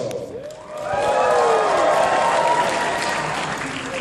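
A crowd at a sumo wrestling demonstration bursts into cheering, whooping and applause, swelling after a brief lull and holding loud and full with high whoo calls rising above the clapping.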